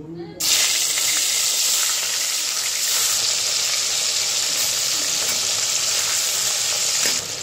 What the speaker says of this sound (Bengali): তেল গরম হয়ে গেছে, এক এক করে মাছগুলো ছেড়ে দিই।